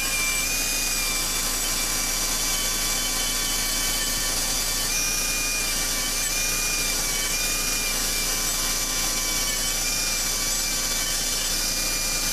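A half-worn Scotch-Brite abrasive pad scrubs steadily against a Jet Star 3 surface, a continuous close, even rasping hiss that runs without pause for the whole stretch, with no talking.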